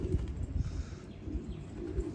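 Domestic pigeons coo in soft, low, repeated murmurs close by, a continuous throaty burbling with no speech over it.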